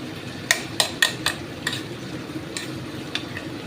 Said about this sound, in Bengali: এবার একটু নাড়াচাড়া করি